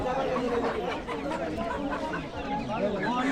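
Chickens at the Shibrampur village poultry market where ducks are sold, clucking and chattering continuously amid a busy crowd, close and fairly loud, with voices talking throughout.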